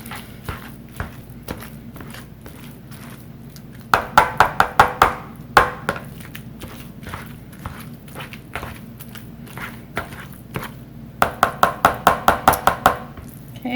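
Sweet potatoes being mashed with butter, heard as two bursts of rapid, rhythmic squelching thumps from a masher, separated by quieter, scattered pressing sounds, close by with no talking.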